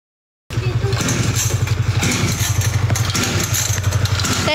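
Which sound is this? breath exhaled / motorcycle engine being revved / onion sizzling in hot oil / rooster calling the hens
motorcycle engine being revved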